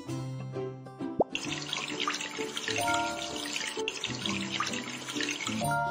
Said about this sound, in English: Let's give some shower.